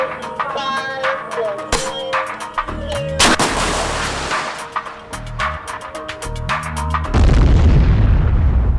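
A wire-guided anti-tank missile fired during an Army test, with a loud launch blast and then several heavy booms and rumbling impact as it strikes the target, amid continuous military background noise.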